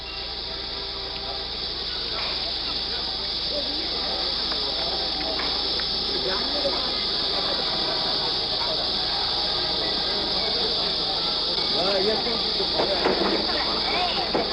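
A dense chorus of cicadas drones loud and unbroken through a summer afternoon in Shanghai, with faint street and crowd murmur underneath.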